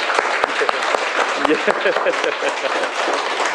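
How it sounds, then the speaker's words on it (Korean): Clapping from a small gathering of believers at a donation ceremony. It runs steadily for a few seconds with scattered laughter and voices mixed in. "박수 쳐주세요"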